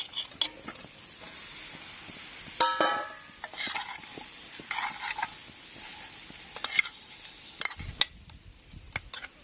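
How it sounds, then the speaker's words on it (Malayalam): Cassava (kappa) being stirred as it fries in a pan at an outdoor camp: a steady, soft sizzle broken by repeated scraping strokes and clinks of the spoon against the pan. "ഇനി കപ്പയിട്ട് അങ്ങ് ഇളക്കിക്കോളുക."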